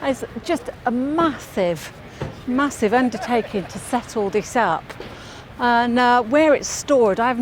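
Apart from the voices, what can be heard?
No distinct noise like a dog, phone or traffic.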